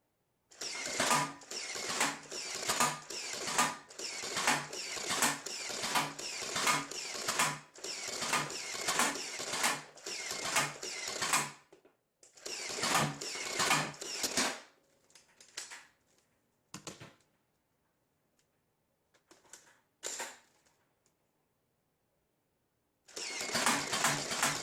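A custom Sonic Green Stampede ECS half-dart blaster fires a fast, steady burst of mechanical clacks, then a few shorter bursts and isolated shots after a pause, loud and close with no talking.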